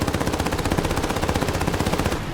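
Rapid, steady machine-gun fire from the wing-mounted guns of a Ki-27 fighter plane in War Thunder, a loud continuous burst of evenly spaced shots lasting a couple of seconds with no talking.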